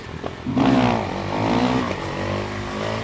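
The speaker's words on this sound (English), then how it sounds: "you pull the clutch, rev the bike" A motorcycle engine is revved with the clutch pulled in, during wheelie practice. It gives a quick blip, then two rising and falling roars that sweep up in pitch and settle into a steady, close, loud drone.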